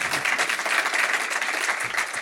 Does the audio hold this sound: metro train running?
no